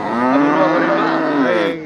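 A cow moos loudly and steadily for nearly two seconds at the Melapalayam cattle market, one long drawn-out call close by with no talk over it.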